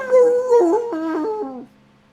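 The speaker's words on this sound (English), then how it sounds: "Ronio, you hear that she begins to howl in the distance" A single dog howling, a wavering tonal cry that rises and falls in pitch over about a second and a half before fading out, clear and fairly prominent.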